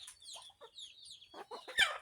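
Hens and chicks softly cluck and peep while pecking at termites from a split-open termite nest, quiet and close, rising to one louder call at the end.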